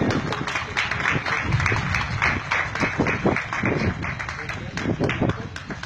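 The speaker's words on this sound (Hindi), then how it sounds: "तालियां" A crowd applauds in a dense, continuous patter of many hands clapping at once, steady and fairly loud throughout.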